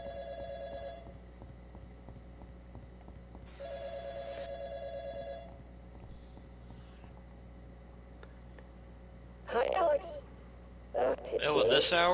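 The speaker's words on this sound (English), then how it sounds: "Ring, ring, ring. Answer the phone." Telephone in the video game YiiK: A Postmodern RPG ringing in repeated electronic bursts, a steady tone pattern over a constant hum, followed by sharper game sounds near the end.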